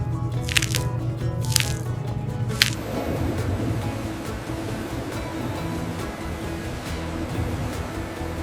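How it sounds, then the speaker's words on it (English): Water washes button mushrooms on a processing line, a steady wet splashing and squishing wash with a few sharp drips or knocks near the start, loud and with no talk. "On the processing line, mushrooms are gently cleaned to remove any remaining debris from harvest."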